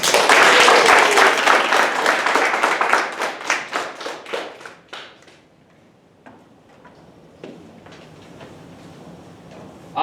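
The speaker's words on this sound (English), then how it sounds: "Let's give him a round of applause." An audience at a speech contest gives a round of applause for a student speaker: dense clapping that thins into separate claps, fades to near silence, then a few faint scattered sounds follow.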